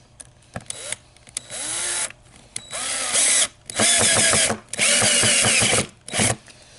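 A power drill driving a screw into a zig zag spring clip, close and loud, several bursts of whirring with the motor pitch shifting, separated by short pauses.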